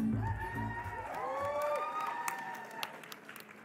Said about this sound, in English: Give a big round of applause for Petter and Anne.